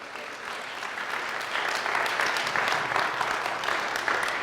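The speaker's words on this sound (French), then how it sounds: "Applaudissons Jésus." A church congregation claps during a French-language worship broadcast, the applause swelling midway and holding steady and fairly close, with no voices over it.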